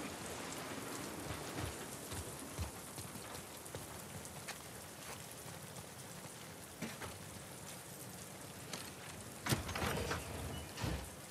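Steady rain falls and patters on surfaces in the video game The Last of Us Part II, a soft continuous hiss with occasional louder drips and knocks.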